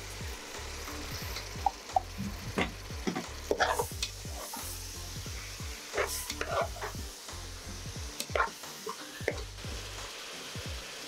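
Curd and tomato frying and being stirred in a pan for paneer pulao: a steady close sizzle broken by repeated scraping spoon strokes in an uneven rhythm, with no talking.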